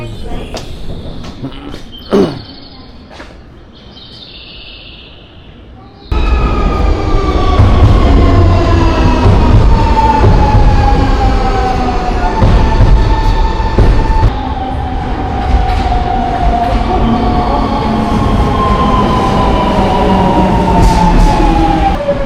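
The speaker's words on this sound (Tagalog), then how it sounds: "Our train is here." A train pulls into a station in Japan: a quiet platform with a brief clank gives way to a loud, sustained rumble and screeching wheel tones as the cars roll in close by.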